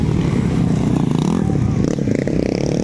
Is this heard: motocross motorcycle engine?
yes